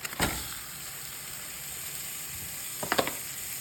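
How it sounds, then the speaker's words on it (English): A pound of ground beef hits a hot pan, giving a steady soft sizzle and hiss with a couple of brief clatters from the pan or utensil at the start and near the end. "So now we're gonna throw in our pound of ground beef."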